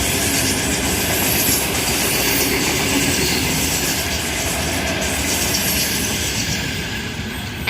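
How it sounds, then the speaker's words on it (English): Sydney train passing through Kogarah station, a loud close rumble with clattering wheels and faint squeal, sustained throughout and gradually easing. "Oh, there's a train passing."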